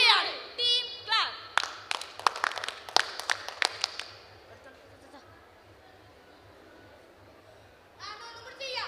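Students at a school annual-day drama rehearsal clap for the team, a quick burst of sharp, close hand claps amid children's chatter and voices, fading to quiet before talk resumes.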